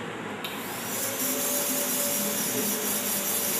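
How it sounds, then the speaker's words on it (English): A diamond bur in a dental handpiece refines an all-ceramic crown preparation, a steady high whine with grinding hiss that holds close and even for several seconds. "we can use a round block shaped or flame shaped diamond and start refining the preparation"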